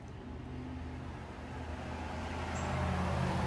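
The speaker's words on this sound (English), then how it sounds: "I am so grateful that truck went by when I wasn't speaking." A truck passing by outdoors, its low engine rumble rising gradually and growing louder toward the end as it approaches, heard faintly from indoors with no speech.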